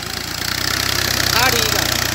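Tractor engine preparing a field for wheat, a loud close rumble that pulses rhythmically and builds slightly in revs, with a voice talking over it.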